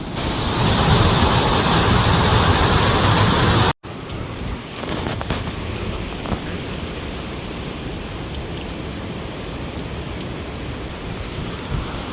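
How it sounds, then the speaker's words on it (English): Steady heavy rain in Scotland hisses loudly, then after a brief cut continues as softer, close rainfall with scattered drips and a low wash of water. "it's raining once more."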